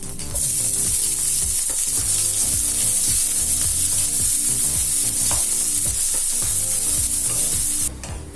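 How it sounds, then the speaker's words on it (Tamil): Onion sautéing in hot oil with dried red chilli, curry leaves and asafoetida for a Tamil green gram kulambu, a steady dense sizzle running without pause for about eight seconds, close and loud, with faint utensil scrapes and no voices. "இப்ப வெங்காயம் நல்லா வதங்கிடுச்சுங்க."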